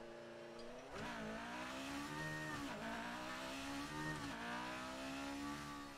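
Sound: racing car engines from a video game

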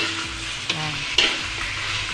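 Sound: sautéing pork bistek with garlic in a pan

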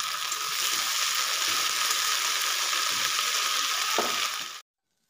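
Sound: frying amaranth greens (note shak) in oil

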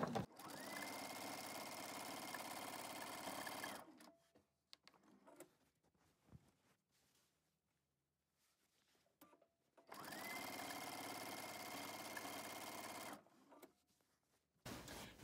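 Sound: sewing machine sewing quilt binding

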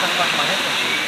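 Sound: waterfall flowing into a hotel pool

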